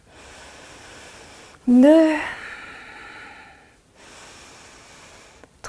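Deep breathing during an autumn yoga flow: a sharp, snort-like nasal inhale bursts out loud and close, then settles into a softer, steady breath before fading to quiet room tone.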